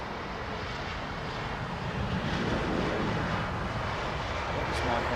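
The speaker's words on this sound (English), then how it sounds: "BA787-9 on approach from Haneda" British Airways Boeing 787-9 on approach to Heathrow from Haneda, a broad, steady jet roar swelling slightly as it nears, with wind noise and people talking underneath.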